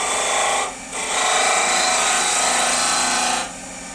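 Wood pen blank spinning on a lathe while a tool takes light cuts, a steady close scraping rasp that briefly dips twice as the tool lifts away.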